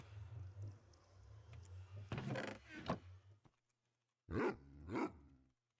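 A Minecraft dog barks four times in two pairs, loud and close, over a low droning ambience that drops to near silence before the second pair.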